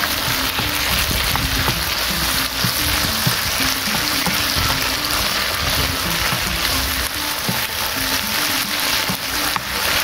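Snails (tutut) fry in spicy rica rica seasoning, crackling and sizzling continuously and loudly, with the scrape of stirring mixed into the steady close-up frying noise.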